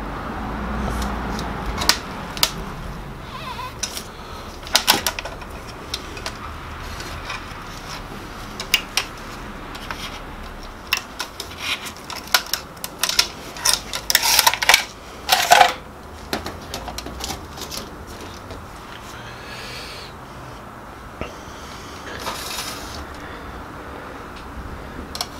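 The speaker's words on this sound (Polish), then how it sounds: "Teraz jesteśmy już w momencie, w którym możemy zdjąć uszkodzoną folię grzejną." Damaged heating film is worked off a Ricoh MP C3002-series copier fuser by hand, producing scattered sharp plastic clicks, taps and crinkles, sparse at first and clustering densely in the middle before thinning out again.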